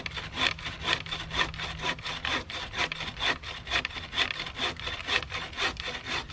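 A hand saw cuts down through a firewood log, steady back-and-forth rasping strokes at a quick even rhythm, close and clear with no talking.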